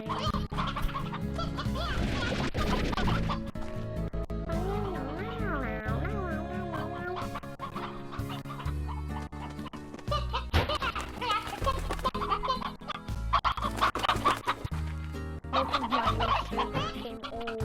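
Hens and roosters cluck and crow in the video game Slime Rancher, busy repeated calls over a steady game soundtrack that carries on throughout.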